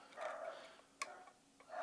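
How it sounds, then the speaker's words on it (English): Dogs bark somewhere in the background, a few faint, distant yaps scattered over a quiet indoor room while someone tests a Medford Merc-1 knife. "You hear the dogs barking."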